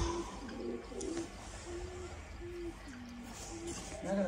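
A freshly caught pigeon gives low, repeated coos up close against a noisy background, with faint voices nearby.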